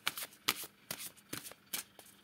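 A deck of oracle cards is shuffled close by, quiet brisk papery riffles in about six quick bursts.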